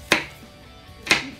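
Two sharp knife chops through peeled ginger on a cutting board, spaced about a second apart, close and crisp with quiet pauses between.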